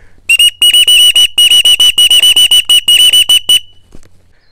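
Duck whistle imitating a green-winged teal: a fast run of about twenty sharp, high, loud peeps in uneven bursts, heard close with no talking.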